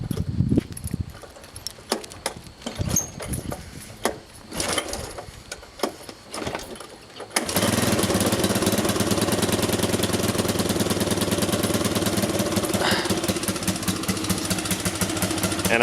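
Suzuki LT 185 ATV engine starting without choke: a few seconds of clicks and handling, then the small single-cylinder motor catches abruptly and settles into a steady, loud, close idle that runs uninterrupted to the end.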